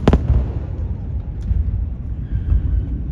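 Several deep, distant sonic booms from a landing rocket booster rumble one after another, low and muffled, with a rolling echo between them.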